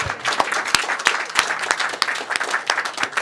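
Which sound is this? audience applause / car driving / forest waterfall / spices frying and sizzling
audience applause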